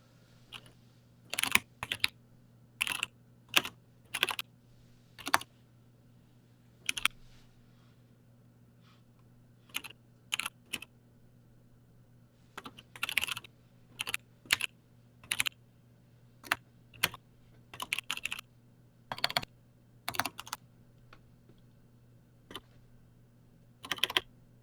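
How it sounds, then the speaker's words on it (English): Mechanical keyboard with MX Clear switches being typed on in irregular bursts of sharp keystrokes separated by pauses, alone over a steady low electrical hum. "Those are authentic MX clears."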